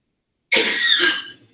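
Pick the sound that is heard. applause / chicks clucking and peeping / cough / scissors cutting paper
cough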